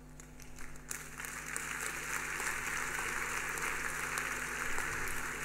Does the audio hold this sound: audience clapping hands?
yes